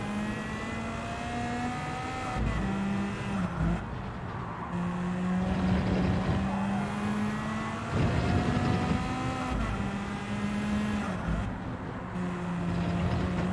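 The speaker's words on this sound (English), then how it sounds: "Just trying to keep my foot in a little bit, just to get that turbo spooling up." A turbocharged race car engine in Gran Turismo revs and holds steady tones, with the pitch dropping at gear shifts and a turbo whine rising through the acceleration, loud and continuous.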